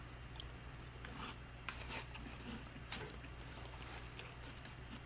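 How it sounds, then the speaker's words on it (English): Someone chews crunchy cinnamon corn cereal close to the microphone, soft irregular crunches and bites over a low steady hum, with no talking. "As soon as I crunch it down on them, they're dissolving, but not in the bowl."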